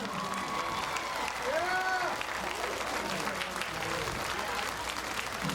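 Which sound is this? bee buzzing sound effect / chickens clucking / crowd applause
crowd applause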